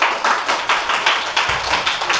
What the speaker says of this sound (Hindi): बहुत अच्छा, ताली बजाओ सब लोग।